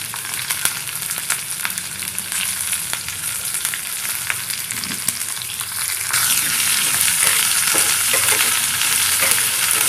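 Chopped onion and curry leaves frying in a hot pan with oil, a dense steady sizzle punctuated by scraping stirs, loud and close, swelling louder in the second half, no speech.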